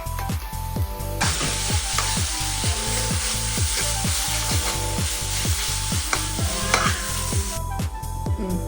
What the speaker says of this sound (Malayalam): നമ്മളിതേ സബോള വഴറ്റുന്ന പരിപാടി കേട്ടോ അങ്ങനെ കുത്തി വഴറ്റാണെങ്കിലേ നല്ല ഗ്രേവി നല്ല തിക്കായിട്ട് കിട്ടും